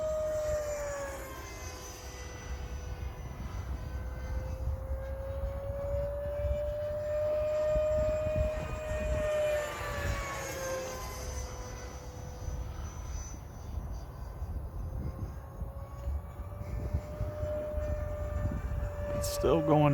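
An E-flite Viper RC jet flies overhead, its high whining turbine tone gliding up and down in pitch as it passes, steady and moderately loud against a light breeze, with the pilot talking intermittently.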